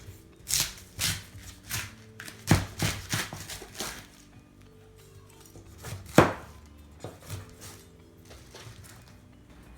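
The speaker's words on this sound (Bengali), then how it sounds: "আনারসটা প্রথমে অর্ধেক করে নিব।" A knife cutting a pineapple in half, a series of close crunchy chops and sawing strokes in irregular bursts, with a sharper cut near the middle and quieter gaps between.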